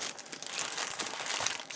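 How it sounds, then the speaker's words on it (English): Plastic packaging around rolls of red line craft tape crinkles and rustles up close in short irregular bursts, with no voices. "sorry, crinkle, crinkle, and more crinkle"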